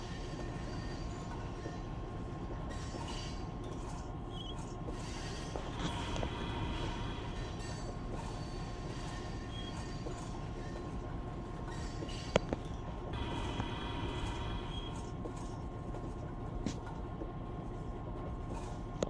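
A Lakeland & Black Valley coal train about a mile and a half long, with hoppers, rolls past on the tracks in a steady, loud rumble with rattling cars and faint wheel squeal, no voices.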